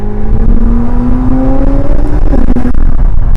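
A McLaren 750S supercar's turbocharged engine accelerates hard with a rising, steady whine and roar, loud and close, pitch climbing before a brief shift.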